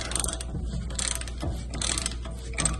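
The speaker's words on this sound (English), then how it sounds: "I'm going to try just taking the entire caliper off" A ratchet wrench works loose the brake caliper bolts on a 2013 Chevy Silverado, giving repeated bursts of close, rhythmic clicking with brief pauses and no talking.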